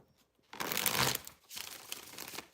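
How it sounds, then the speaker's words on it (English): Two bursts of tarot cards being shuffled close up, a long crisp riffling rush followed by a shorter second one, with a brief quiet gap between. "All right, one more shuffle."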